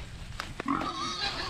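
A pig on a farm clearing grunts and squeals in several close, loud bursts after a couple of short knocks, with no talking.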